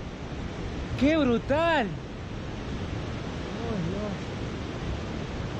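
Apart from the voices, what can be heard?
waterfall rushing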